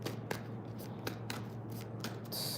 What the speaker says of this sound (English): as I'm finished shuffling the deck